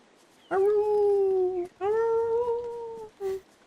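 Attack dogs in a video game whimper and howl at a gate, three close, loud whining cries in sequence, the last one short.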